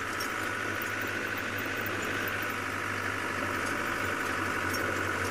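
A safari vehicle's engine runs steadily for several seconds, a constant droning rumble with a noisy mechanical whine on top, close and unbroken, with no voices.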